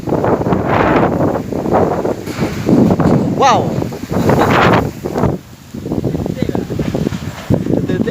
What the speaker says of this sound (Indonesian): detik-detik angin kencang, sobat.